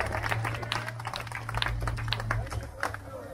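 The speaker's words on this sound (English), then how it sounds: "Can we get a round of applause for everybody here?" Crowd applause at a motorcycle rideout, a short burst of scattered clapping mixed with voices and a low rumble of idling bikes underneath.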